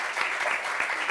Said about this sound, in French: Applaudissements pour cette affirmation